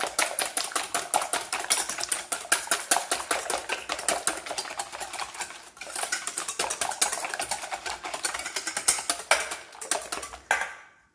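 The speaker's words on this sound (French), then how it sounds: "Et là, je viens fouetter" Eggs and sugar for crème pâtissière are whisked briskly in a bowl, a fast, rhythmic metallic ticking close by that pauses briefly midway and then resumes before stopping.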